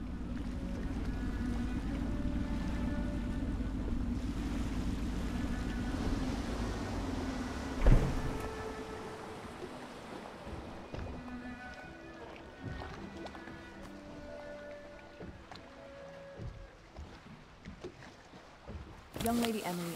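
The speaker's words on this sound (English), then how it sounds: "I should concentrate on piloting this boat." A boat in the video game Dishonored moves over water with a steady low rumble and wash that fades to a quieter lapping, with a sharp knock and occasional talk.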